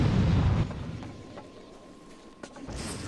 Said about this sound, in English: Threw a grenade at me.